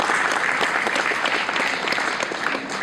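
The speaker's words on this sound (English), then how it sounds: "Let's give them a big round of applause." Sustained audience applause at a South African tourism event, dense and steady throughout, filling the room with many hands clapping at once and no voices standing out.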